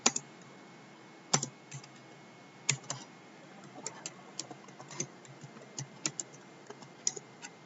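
Keystrokes on a computer keyboard as a material name is typed into Ansys Workbench engineering software, sparse irregular clicks with a few sharper taps over a faint steady hiss, close and alone.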